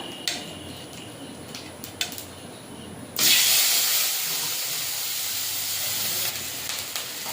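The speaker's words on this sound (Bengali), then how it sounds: "দিয়ে দেবো পেঁয়াজ বাটা," Onion paste hits hot oil in a wok after black cumin seeds, bursting into a loud steady sizzle and hiss that follows a few light clinks, then eases slightly toward the end.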